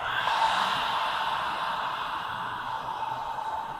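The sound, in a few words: ujjayi breathing exhale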